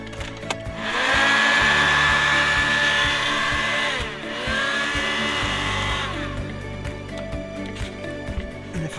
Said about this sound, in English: absolutely scorch it in with the heat gun, as it makes it stick a lot better